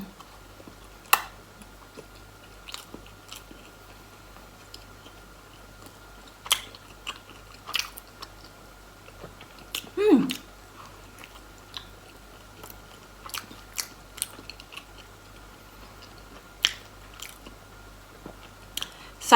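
Someone bites into and chews a Thai pastry filled with Thai tea custard, producing sparse, quiet crunchy bites and soft mouth clicks scattered across a near-silent background, with one louder crunch partway through.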